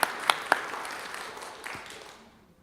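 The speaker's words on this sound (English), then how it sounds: "So I just want to really shout everyone out for that. They can hear us, so if we clap" A church congregation at a business meeting claps together, a few sharp claps at first then a brief spread-out round of applause that fades away within seconds, moderately distant.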